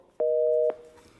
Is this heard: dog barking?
no